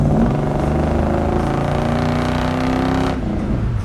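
A 1973 Chevelle Deluxe V8 with a 2-barrel carburetor runs close by with a deep, steady engine drone that holds a rough even pitch, then eases off near the end.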